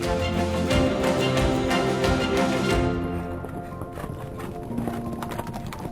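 Horse hooves clip-clop in a quick, steady rhythm on a morning ride in Shekhawati. The hoofbeats are loud and close at first, then ease off into lighter, fainter steps.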